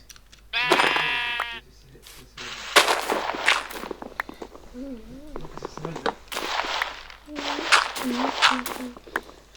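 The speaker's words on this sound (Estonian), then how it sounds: "Lammas." Sheep bleating in the Minecraft video game, several short wavering bleats spread across the clip among game sound effects and footsteps, with a voice speaking in between.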